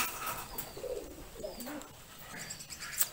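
Pigeons coo inside a pigeon coop, several soft low rolling calls coming close together at a moderate, fairly quiet level, with a few faint clicks and rustles around them.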